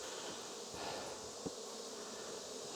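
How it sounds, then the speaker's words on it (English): Honey bees hum in a steady, even drone around an opened backyard hive during an inspection of its frames. The buzzing sounds close and fairly quiet, and it continues without a break, with no speech over it. "Bees look good."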